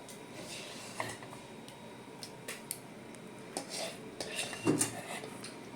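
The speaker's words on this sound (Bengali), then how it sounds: "এইবার আমি থালাতে সব তুলে নেব।" Cooked ripe mango pulp is scooped from a pan onto a plate, heard as quiet scattered scrapes and clinks of a utensil against metal and dishware, growing busier near the end, with no talking.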